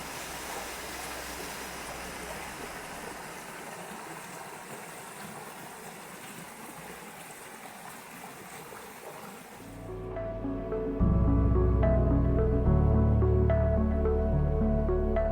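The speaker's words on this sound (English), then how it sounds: "with the rain the water is flowing, and that sound for me is just absolutely amazing" Rain-swollen stream and waterfall at Hogsback rushing in a steady, broad wash, then abruptly giving way to loud music for the last few seconds.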